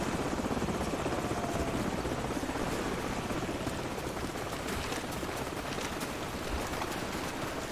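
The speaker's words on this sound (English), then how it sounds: "Hold on, the helicopter's back." A helicopter's steady rotor roar and whine fills the scene continuously in the video game Call of Duty 4, dense and fairly distant, with no talking.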